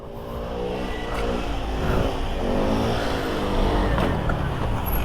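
An NK150 motorcycle engine revs on a slope, rising and falling in pitch as the throttle is blipped, loud and close, with a steady rumble underneath and no talk.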